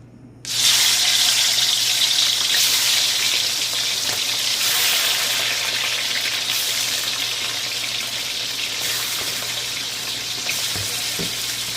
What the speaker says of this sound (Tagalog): Ipa-fry muna natin yung chicken.